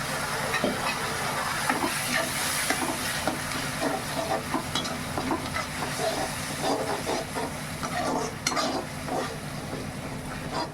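A pot of potato curry with added water bubbles and hisses steadily up close, with occasional stirring clatter and bursts of spluttering over a constant low rumble.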